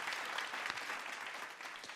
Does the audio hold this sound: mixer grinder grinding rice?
no